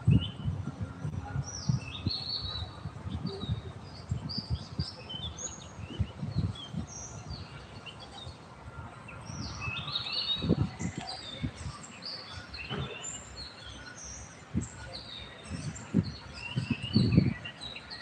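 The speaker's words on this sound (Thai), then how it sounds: "เสียงนกอะไรก็ร้อง" Birds chirp and call repeatedly in the evening open air, soft thin high notes scattered throughout under a gentle breeze, with occasional low thumps and rustles near the microphone.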